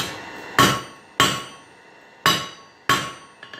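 Four sharp, ringing hammer blows strike mild steel bar stock on an anvil at an uneven pace, each ending in a brief metallic decay, followed by a couple of light taps.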